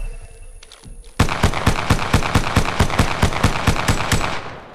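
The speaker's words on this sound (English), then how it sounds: "Opening fire on the enemy." Rapid automatic gunfire from the Apex Legends video game, a loud burst of evenly spaced shots starting abruptly after a brief quieter moment and continuing steadily to the end.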